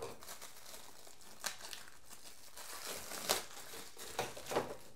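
A mushroom mycelium substrate block, dense with active mycelium, is opened up by hand: close crinkling and crumpling with a few sharper tearing bursts, quiet and intermittent, no talk.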